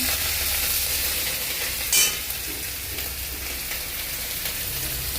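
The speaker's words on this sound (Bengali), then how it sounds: "জিরে ফোড়ন দিয়েছি, তা আদা দিয়ে দিলাম" Cumin seeds tempering and ginger sizzling in hot oil for a papaya ghonto, a steady broadband frying hiss with a brief louder burst near the start, close and continuous with no voices.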